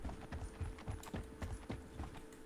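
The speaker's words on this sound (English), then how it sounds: "that's just a generic footstep sound." Generic footsteps from a character walking in an Unreal Engine game tap in an even, regular rhythm of soft, quiet thuds, about two per second, with no talking.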